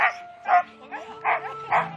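Sled dogs barking in falling snow near a musher, a series of about five sharp barks spaced roughly half a second apart, close and clear.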